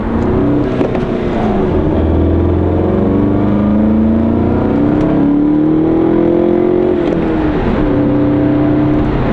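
Volkswagen MK7.5 GTI engine with a JB4 tune cutting boost and failing to accelerate, heard from inside the car as a loud, steady droning hum that barely rises in pitch across the whole stretch.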